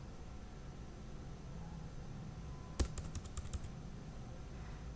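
A short burst of about eight quick keystrokes on a computer keyboard, close and crisp against a faint background hiss, while a command is typed into a network switch console.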